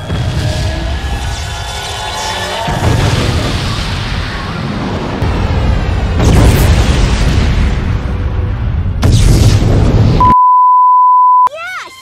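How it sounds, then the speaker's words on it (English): The Black Comet exploding in Shadow the Hedgehog, a long, loud rumbling blast with surging bursts and whooshes over about ten seconds, then sudden silence broken by a steady electronic beep, with voices heard among the noise. "The Black Comet is destroyed!"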